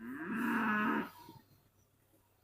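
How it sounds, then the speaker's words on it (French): A cow moos in an open field, one long, loud, rising-then-level bellow lasting about a second before trailing off into quiet outdoor background. "Je sais pas ce qu'elles disent, nos petites vaches là, mais elles ont beaucoup de choses à dire."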